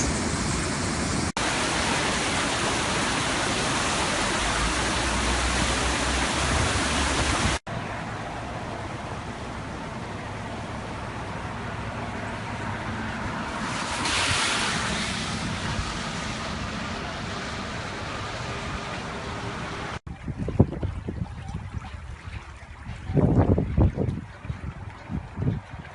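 Floodwater after a flash flood on Shoal Creek in Austin, Texas, roars steadily and loudly throughout as a broad rushing wash, with a few knocks and bumps near the end.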